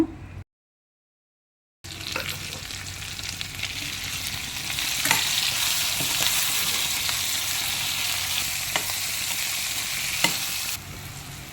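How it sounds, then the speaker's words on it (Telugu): Cashew nuts frying in oil in a pan for a sorrel leaf and potato pulao, a close, steady sizzle with occasional stirring scrapes and clicks, broken by a brief silent gap near the start. "ఇవి జీడిపప్పు అండి, చక్కగా వేగించుకోవాలి."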